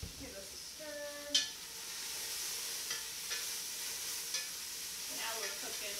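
Mushrooms for vegan yakisoba fry in a pan with a faint, steady sizzle, a few light knocks and scrapes as they are stirred, and a brief low voice near the start.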